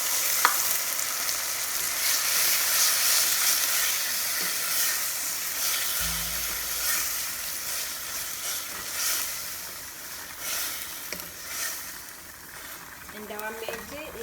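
Steady sizzling and frying hiss as tomatoes are added to browned onions in a pan, with occasional stirring clinks and faint background noise throughout.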